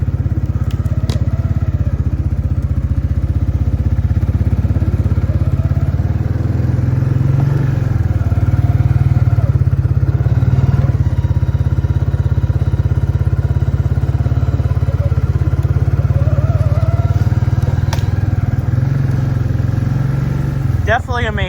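Can-Am Outlander ATV engine droning low and steady as it climbs over a downed dead tree on a winter trail, with crunching and clatter of wood under the tires and someone talking throughout.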